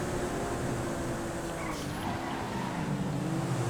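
Cars racing in GTA 5, a Surano against a Serrano in a car-versus-car race, give a continuous engine drone with shifting pitch as one overtakes, moderately loud, without speech.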